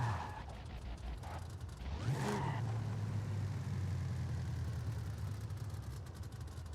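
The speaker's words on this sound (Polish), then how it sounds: "po prostu posłuchacie dźwięku tego silnika" Chevrolet Camaro ZL1 V8 engine in Forza Horizon 5, a deep steady rumble that swells sharply after a brief quieter stretch and then holds a loud, low, sustained drone.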